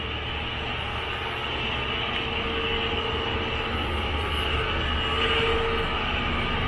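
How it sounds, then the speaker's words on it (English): A low, continuous rumble of passing diesel freight trains with a droning engine hum, steady and fairly distant, at Junee Railway Station, New South Wales, with no one speaking. "the noise in the background is just a few diesel freight trains that are coming through"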